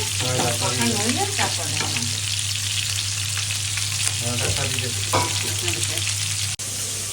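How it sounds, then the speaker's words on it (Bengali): Chicken pieces frying in a pan give off a loud, steady sizzle and crackle that runs unbroken from start to finish, close up. "মুরগি গোস্ত অনেক সুন্দর করে বাজছে"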